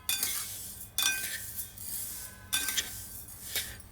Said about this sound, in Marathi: सारखे ढवळत राहायचं, पण नाही तर खाली लावून करपू शकतं